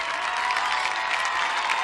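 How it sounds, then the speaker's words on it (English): A college football crowd at a 1996 Buena Vista versus Wartburg game rises to its feet, giving a steady, dense roar of cheering and clapping that fills the whole stretch without letup. "The crowd is on their feet here."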